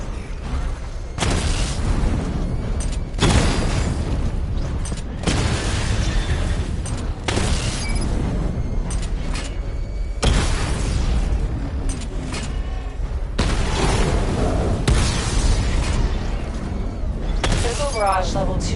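Missile barrage explosions in Batman: Arkham Knight, a relentless run of loud booms and bursts with crackling debris, hitting in repeated waves under game noise and occasional voices.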